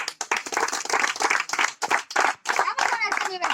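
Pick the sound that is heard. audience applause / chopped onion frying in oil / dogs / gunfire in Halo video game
audience applause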